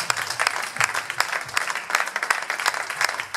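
Audience at an evangelism conference applauding steadily, a dense, loud wash of many hands clapping with scattered sharper claps, close and continuous throughout.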